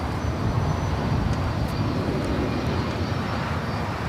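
An Airbus A320 airliner departing LAX gives a loud, dense, continuous engine roar that stays steady throughout.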